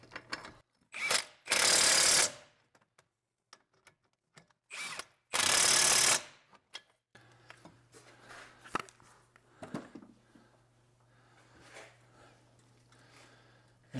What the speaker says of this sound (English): torque the caliper mounting bolts to factory spec here.